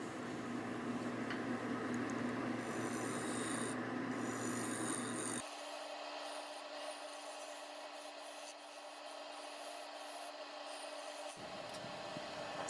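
A lathe turns the bottom of a maple bowl as a tool flattens it, making a steady, dense rubbing hiss that drops into a quieter, humming phase midway before resuming.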